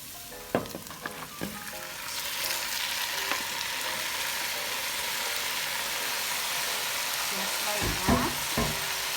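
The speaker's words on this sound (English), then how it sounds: "So now I'm going to add the shrimp to the pot." Shrimp for Jamaican pepper shrimp go into a hot pot, setting off a loud crackling fry with clattering clicks and stirring knocks at the start, then a steady sizzle and a few more knocks near the end.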